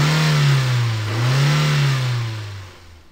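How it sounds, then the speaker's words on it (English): Cartoon monster truck engine revving and zooming, a loud, close engine note that swells up and down twice before fading out, with no talk. "Then Blaze zoomed up to rescue his friend"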